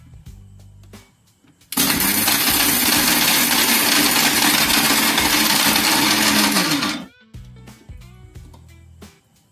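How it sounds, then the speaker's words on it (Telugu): A kitchen mixer grinder whirs loudly for about five seconds, grinding dry spice ingredients for a South Indian bottle gourd chutney, starting abruptly and cutting off, with quieter clatter before and after. "ఈ డ్రై ఇంగ్రీడియంట్స్ని ఒకసారి మిక్సీ పెట్టాలి"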